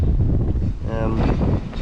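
Strong stormy wind buffets the microphone in heavy, continuous low rumbling gusts, loud and close, with a faint voice briefly audible underneath, on a roadtrip across Victoria, Australia.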